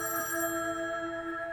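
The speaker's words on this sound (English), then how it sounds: "when her phone rings" A telephone rings with a steady electronic tone, sustained and fairly clear, brief and alone without talking.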